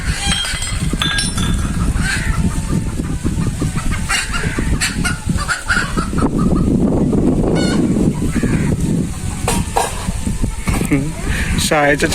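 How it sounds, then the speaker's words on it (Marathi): A hen chased and caught in a village, squawking and clucking loudly in a dense jumble with other animal calls and people talking throughout. "अर्ध्या तासापासून सगळे लागलेले आहेत कोंबडी पकडायला"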